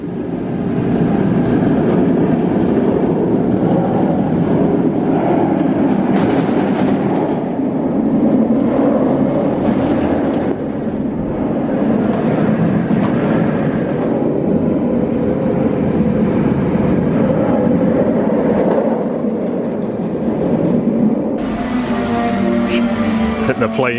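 An empty Nemesis roller coaster train rumbles and clatters along its track, the roar swelling and fading over time, with people talking nearby.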